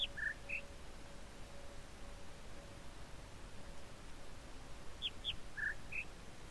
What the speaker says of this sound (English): Listen to the birds here. There's two birds.